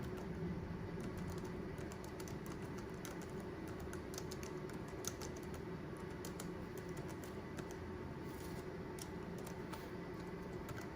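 Fingers tap quickly and steadily on a computer keyboard during basic word processing on Windows XP, producing a continuous run of light clicks over a constant background hum, with no voices.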